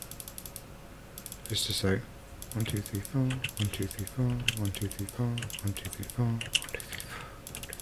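Keys clatter on a computer keyboard in quick bursts as a command is typed during a modded Minecraft game, close and fairly quiet, with a voice talking over the clicking.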